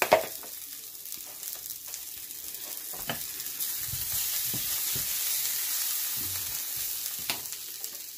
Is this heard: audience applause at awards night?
no